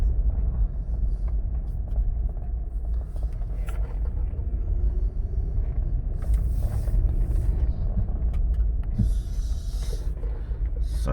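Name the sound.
Lexus GX470 driving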